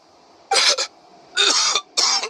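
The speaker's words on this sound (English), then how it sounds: "Why is he coughing?" A male video game character coughs in three rough bursts, close and loud, with short pauses between them and no talking.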